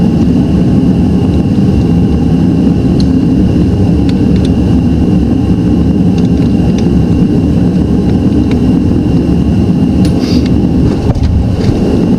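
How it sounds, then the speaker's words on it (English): A heater runs loudly and steadily throughout in extreme cold, a constant roaring whoosh of air with a low rumble and no other sounds. "Sorry for the noise of the heater, it is extremely"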